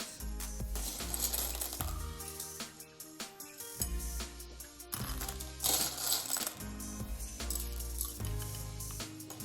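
Jelly beans pouring and clattering onto a cake, a dense, bright rattle of many small candies tumbling in repeated bursts, close and fairly loud with no talking.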